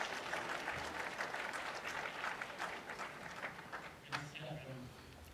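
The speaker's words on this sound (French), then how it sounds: "joignez-vous à moi encore une fois, s'il vous plaît, pour applaudir chaleureusement le groupe Banque TD" Audience applause at a youth forum in Vancouver marking Canada's 150th, a dense wash of clapping that holds steady then thins out near the end, moderately distant.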